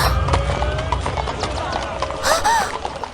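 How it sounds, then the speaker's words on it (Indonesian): A startled horse bolts and runs, its hooves clip-clopping in a quick, uneven patter with a brief whinny-like cry partway through, all under lively talking voices. "Kuda itu kaget dan lari."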